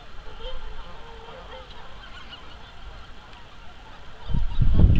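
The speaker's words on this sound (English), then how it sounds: "Can hear those trumpeters." Faint honking calls of trumpeter swans carry from a distance over a windy outdoor background during spring migration, with a low rumble at the end.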